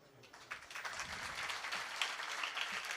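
Applause from an audience at a Marathi devotional kirtan gathering, a dense steady patter of many hands clapping close by that swells after the first half second and carries on throughout.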